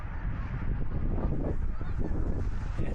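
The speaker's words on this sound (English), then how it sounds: "Yeah, it's a bunch of geese going over." Geese honk faintly as a flock passes overhead on a cold day at a truck stop, the calls scattered under heavy low rumbling background noise.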